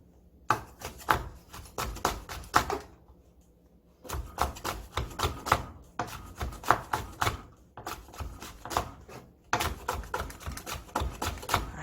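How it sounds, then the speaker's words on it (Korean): A knife slices cheongyang chili peppers into thin rounds on a cutting board in quick, crisp tapping runs. Brief pauses separate each run, and the chopping is close and fairly soft. "청양고추를 둥글둥글하게 그냥 썰어 주셔요"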